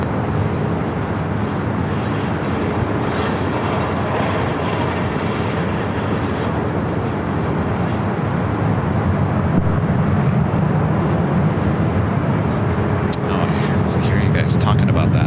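A Delta jet airliner takes off at LAX, a broad, steady engine roar filling the scene at constant loudness, with a voice speaking over it.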